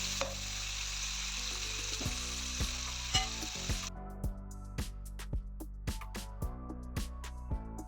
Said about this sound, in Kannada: ಈರುಳ್ಳಿ ಚೆನ್ನಾಗಿ ರೋಸ್ಟ್ ಆಗಲಿ ಒಂದು 2 ನಿಮಿಷ.